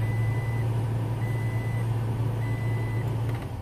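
A Toyota Tacoma pickup idles steadily after a remote start, a constant low engine drone with faint repeating tones on top, no talk.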